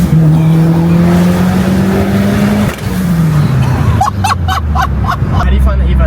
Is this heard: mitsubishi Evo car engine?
yes